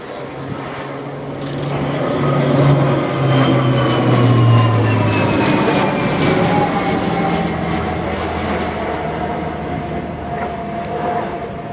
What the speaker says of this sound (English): Now more aerobatic from the C-27J pulling up into a loop.